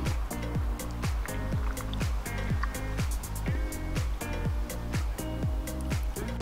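Coolant is poured through a funnel into the thermostat housing of a rebuilt flat-tappet-cam engine, giving a steady run of hollow glugs about twice a second, close and clear, with no voices.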